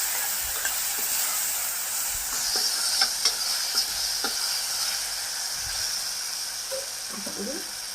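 Ginger garlic paste frying in oil in a pan, a continuous bright sizzle with occasional stirring scrapes and clinks, close up and mostly alone, with faint voice sounds toward the end.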